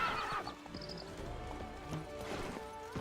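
Roach the horse in The Witcher 3 gives a sharp whinny, then hooves clip-clop at a trot, close and clear against quiet game ambience with no talking.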